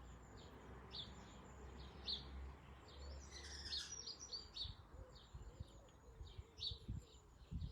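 Outdoor birdsong on a sunny morning, repeated bright chirps and whistles from a few birds at a moderate distance, with soft low background rumble and occasional light rustles close by.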